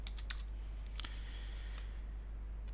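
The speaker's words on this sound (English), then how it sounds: "So if I type Cisco, I have to enter my credentials there." Quick bursts of keystrokes on a computer keyboard while entering login credentials for Cisco AnyConnect, a short cluster of clicks then a few scattered taps over a steady low hum, close and fairly quiet.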